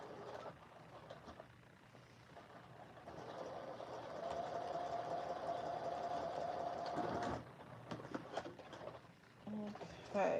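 A sewing machine backstitches along a shirt collar stand seam, its steady motor hum rising into a continuous run mid-clip before stopping, with softer stitching bursts around it.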